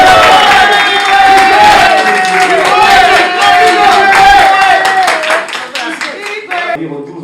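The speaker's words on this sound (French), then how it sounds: "Est-ce qu'on peut applaudir?" An audience at a press conference for Werrason claps and cheers loudly, a dense burst of applause that holds for several seconds, then thins out near the end while a voice speaks over it.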